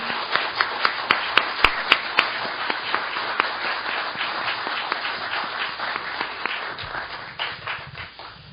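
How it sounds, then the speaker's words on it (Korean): An audience at a 2014 National Assembly event applauds, starting with a few loud, distinct claps that swell into dense, sustained clapping. "여러분의 큰 박수가 필요합니다"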